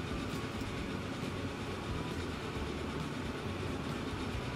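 A train running through a tunnel in the video game Transport Fever 2, a dense, loud, continuous rumble with a faint clatter of the cars, no talk.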